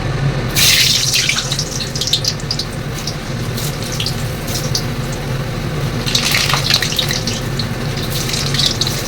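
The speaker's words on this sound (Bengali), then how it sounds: "দেখো আমার তেল কিন্তু গরম হয়ে গেছে, এক এক করে আমি আলুগুলো দিয়ে দিচ্ছি।" Potato pieces are added one by one to hot oil while cooking mutton kosha, and they give a loud, steady sizzle with bursts of brighter crackling as each piece goes in.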